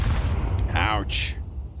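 A grenade blast in Counter-Strike lands as a muffled low rumble at the opening, quickly overlaid by an excited caster's voice talking across the rest of the moment.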